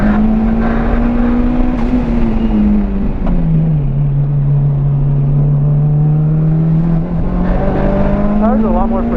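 A Mitsubishi Evo 5 on a race track warm-up lap, its engine a loud sustained in-car drone that rises and falls gently with throttle, steady throughout with slight pitch shifts.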